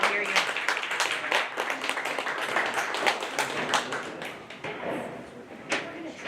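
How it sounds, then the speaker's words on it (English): At a county fair dairy cattle show, the audience claps for a showman, a dense, steady round of applause with sharp individual claps throughout and voices in the background. "Let's go ahead and give our showman a round of applause."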